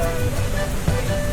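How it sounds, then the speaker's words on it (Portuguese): Boiling water bubbling on the ground at the El Tatio geyser field, 4,300 m up in the Atacama desert, gives a dense, continuous roiling hiss and gurgle heard close up. "Literalmente aqui a água está fervendo, ó."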